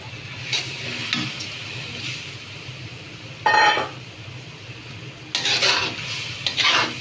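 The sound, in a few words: stir-frying fish head with mung dal in pan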